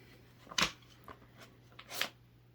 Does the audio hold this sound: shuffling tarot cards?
yes